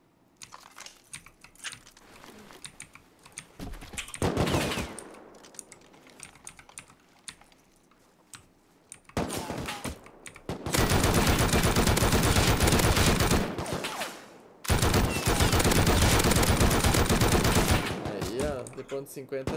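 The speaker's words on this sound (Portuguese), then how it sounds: "Ele tá atirando em mim, ó." Gunfire in the video game Rust, long, dense, loud bursts of rapid shots separated by quieter stretches of clicking keys and faint activity.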